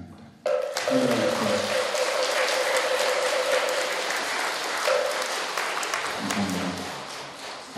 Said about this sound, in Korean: 세민대 종사 스님께 다시 한번 큰 박수 올리겠습니다